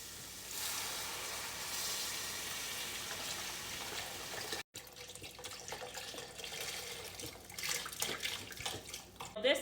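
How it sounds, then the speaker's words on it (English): Water runs from a sink tap into a pot for stew, a steady close rushing splash that cuts out for an instant midway and then resumes, with the pitch shifting as the pot fills. "This up with 32 ounces of water, straight from the sink."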